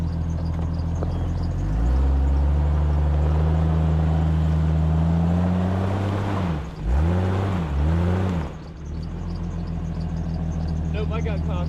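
A truck engine revs hard and holds a loud, steady drone as it strains to climb in two-wheel drive, then surges up and down in pitch a few times before settling to idle.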